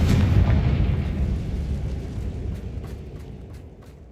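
A Confringo spell explodes in Hogwarts Legacy with a loud booming burst at the start. Its low rumble slowly fades over a few seconds while faint, evenly spaced ticks come through near the end.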